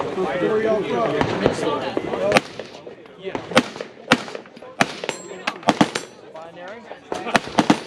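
A Franklin Armory F17X rifle fires in semi-automatic mode outdoors: a string of loud, sharp, separate shots at an irregular pace, with voices and other noise heard early on.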